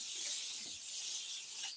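A spray can sprays in a continuous hiss lasting under two seconds, close and fairly soft, in a room with a window open during an evening of sewing small bag crafts.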